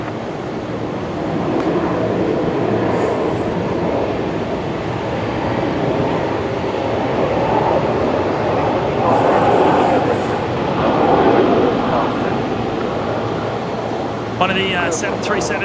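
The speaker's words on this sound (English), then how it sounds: "We heard the reverse thrust from the Virgin 73." Roar of a Virgin Boeing 737-700 using reverse thrust after landing at Brisbane Airport, a loud, sustained broadband rumble heard from a distance, with people talking over it.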